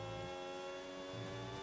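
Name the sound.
Red Bull engine of an F1 car in the video game F1 26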